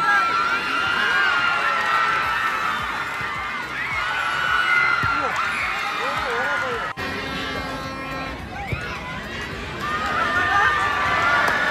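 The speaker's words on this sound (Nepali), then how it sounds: "क्राउडको हल्ला सुन्नुहोस् तपाईँको" Crowd at a local football match between Bagrakote and Kumdini shouts and cheers continuously, with a commentator talking over the noisy spectators.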